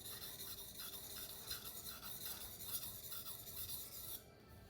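A multi-purpose kitchen-style knife is stroked across a wet King Deluxe 800 waterstone, making a steady, close rhythmic rasping scrape with repeated back-and-forth strokes that stop just before the end.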